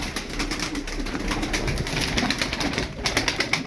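Rapid, continuous wing flapping and fluttering from tumbler pigeons close by, with soft cooing mixed in and a few sharper claps near the end.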